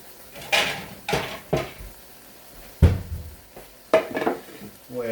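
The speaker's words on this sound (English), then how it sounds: "Now shrimp cooks pretty fast, so we don't want to sit in the wok for too long." Shrimp being sautéed in a wok for pad thai, with a soft sizzle under a series of separate metallic scrapes and clanks as the food is stirred and tossed.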